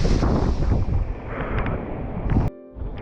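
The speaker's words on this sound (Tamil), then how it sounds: "எப்படி அடிக்குது பாருங்க காற்று." Strong monsoon wind buffets the microphone on a hill fort near Panvel, a loud continuous rumbling roar with gusts that drops suddenly near the end.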